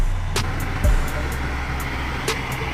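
Manual truck reversing a 28 flip-up trailer toward a dock, a steady low engine rumble with a brief revving swell and a couple of faint clanks, heard at moderate distance.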